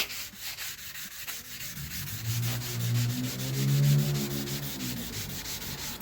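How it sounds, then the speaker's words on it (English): A sanding sponge rubs along the hard cut edge of a glass pane in steady back-and-forth scrubbing strokes, close up and moderately loud, with no talking. "you can do it with a sandy sponge like I have here"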